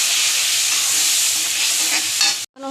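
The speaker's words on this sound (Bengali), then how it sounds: "বাটা মশলাটা দিয়ে দিলাম, এর মধ্যে গুঁড়ো মশলাগুলোও দিয়ে দিলাম, দিয়ে ভালো করে কষিয়ে নেব" Ground spice paste and powdered spices frying in hot oil in a pan for a homestyle soybean kofta curry, a loud continuous sizzle with stirring scrapes, cutting off abruptly near the end before a short tonal sound.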